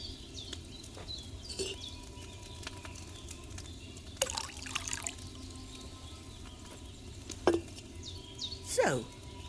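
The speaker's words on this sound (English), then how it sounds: "So, what did you pour in there? Wine, of course." Wine is poured into a cauldron in the video game Kingdom Come Deliverance 2, heard as faint trickling and scattered drips over a quiet background hum, with a few louder liquid splashes near the end.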